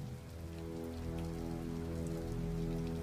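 Wind and rain swirling around the rooftop of a city's tallest skyscraper: a dense, steady wash of rainfall with an underlying low hum, constant and enveloping with no voices.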